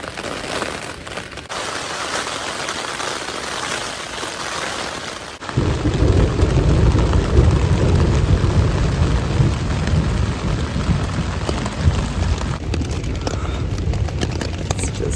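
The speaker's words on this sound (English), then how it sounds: "There's some crazy storms rolling through." A night thunderstorm after 3 a.m. at an Appalachian Trail camp brings a constant loud roar of heavy rain that turns deeper and heavier partway through, with no voices.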